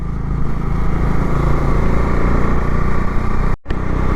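A motorcycle engine droning steadily as the bike climbs a sharp hairpin bend on a hill road, loud and close, with a brief cut near the end.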